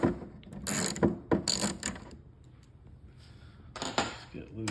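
Close metallic clicks and clatters of a ratchet working an 11mm bolt on a battery's negative line come in short bursts with a quiet pause in the middle.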